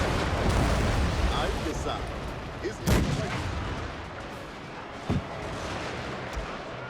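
Rocket fire during a Total War fort battle defending a British fort in the Anglo-Zulu War: a continuous roar of battle noise with a loud booming blast and a later sharper crack, while someone talks over it.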